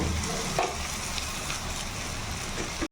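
Onions frying in a pan are stirred, with a continuous close sizzle and soft scraping of the stirring running throughout and no talking.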